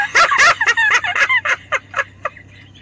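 A live turkey gobbles near and loud, a rapid burst of warbling calls that trails off into a few fainter gobbles.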